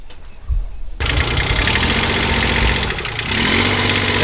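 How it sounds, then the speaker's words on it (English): A boat engine starts up abruptly after a quiet moment and runs at a steady, loud idle with a low rumble and a slight rise in pitch toward the end. "Very interesting engine in this boat as well."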